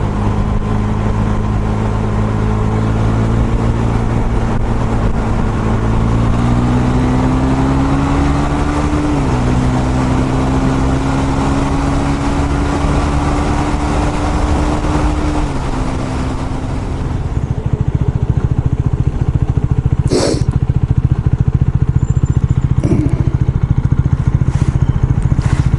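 A KTM 390 Super Duke motorcycle engine pulls hard while overtaking on an open road, its rising tone climbing steadily under loud, constant wind rush, then easing off near the end.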